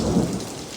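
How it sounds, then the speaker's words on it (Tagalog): Sudden heavy rain pours steadily in a dense, loud roar with a low rumble of thunder in the first moments, no voices present. "bigla na lang po sa amin umulan ng napakalakas. Kulog at kidlat."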